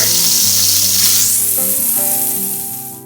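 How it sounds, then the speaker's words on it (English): Pointed gourds fry in a generous amount of hot oil for a Bengali yogurt-gravy dish, producing a loud, dense, continuous sizzle that eases off slightly at the end. "we will add the pointed gourds and fry them until they are golden brown"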